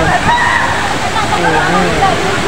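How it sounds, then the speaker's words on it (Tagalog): Mother Falls, a waterfall in Baler, Aurora, rushing in a steady, dense roar of falling water that fills the scene loudly and continuously, close by. "So, ito po si Mother Falls."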